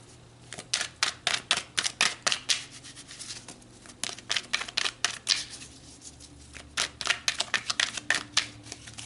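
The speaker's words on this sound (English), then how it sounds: "let's pull some more cards" Tarot cards are shuffled and pulled, giving close, crisp bursts of riffling and flicking that come in quick clusters with short pauses between them.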